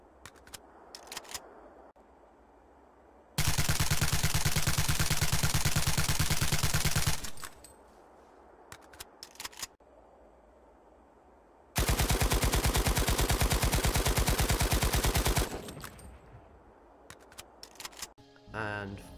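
TR weapons in Planetside 2 firing two long, loud bursts of rapid automatic fire, separated by quieter gaps with scattered clicks and mechanical handling sounds.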